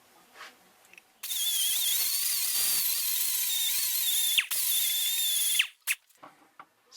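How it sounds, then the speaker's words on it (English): A new abrasive pad on a twist-lock power tool scrubs a Ford 800 oil bath air filter. A steady, shrill grinding whine runs for about four seconds, then cuts off with a few squeaks. "See what about 15 seconds with a new abrasive pad will do."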